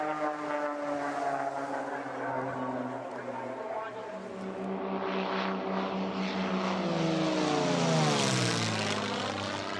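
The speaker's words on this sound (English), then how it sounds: "An airplane truly is one of the awesome things that go." A propeller airplane drones overhead, its engine tone steady and then shifting in pitch as it passes, loud and continuous throughout.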